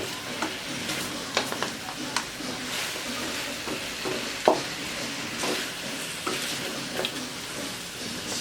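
Spicy native chicken adobo stirred in a pan, with a steady close sizzle of frying under repeated scraping clacks of the spoon against the pan, continuing without speech.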